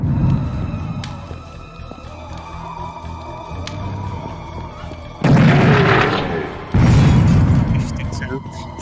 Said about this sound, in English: Interesting that you can shoot the rockets out of the air,